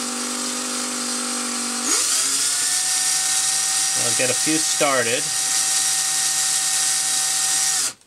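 A power drill winds copper wire onto an electromagnet coil for a telegraph sounder, a steady whine that rises in pitch as it speeds up and then holds level, under a man's short spoken remark.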